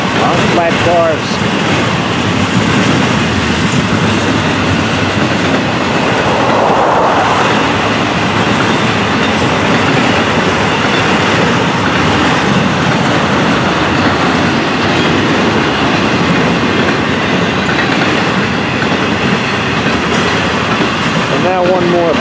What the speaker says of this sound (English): And now one more block of double stacks right here.